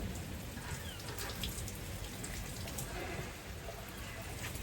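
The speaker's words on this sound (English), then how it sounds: "it's still raining" Steady rain falls during a storm while peas are being sown, making a dense, even patter with scattered close drops throughout.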